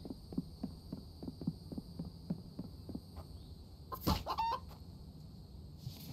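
In the survival game The Infected, a chicken gives one brief clucking squawk after a run of soft, evenly spaced thumps like footsteps, all over a quiet steady hum with no voices.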